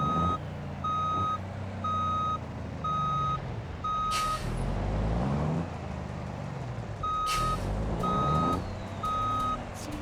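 Truck reversing in the BeamNG driving game, a regular series of loud electronic backup beeps over a rumbling diesel engine, with brief hissing air-brake bursts between runs of beeps.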